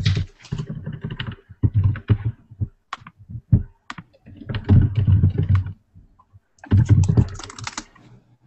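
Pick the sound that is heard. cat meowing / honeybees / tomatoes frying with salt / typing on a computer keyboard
typing on a computer keyboard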